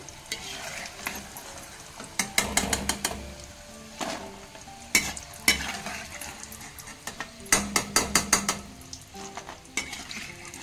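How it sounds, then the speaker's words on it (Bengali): Tomato chips fry in a pan with a soft continuous sizzle, punctuated by repeated bursts of sharp clattering as a utensil knocks and scrapes against the pan, loud and close. "বাকিগুলো আমি একইভাবে ভেজে নেব, এরকম করে দিয়ে।"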